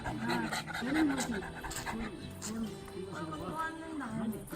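A very large dog pants loudly and rhythmically up close, with quick breathy cycles running throughout while people talk over it.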